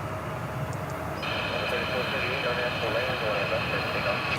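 A jet airliner at Dallas/Fort Worth airport, an American Airlines plane in AirCal heritage livery, rumbles as a steady, fairly distant engine roar with a whine entering partway through, under light background chatter.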